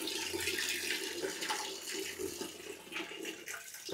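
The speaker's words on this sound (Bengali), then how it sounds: "গিজার অন করেছি, এটা থেকে আমার গরম পানি বের হয়" Hot water from a switched-on geyser gushes steadily from a tap in a close, continuous stream, alone with no talk.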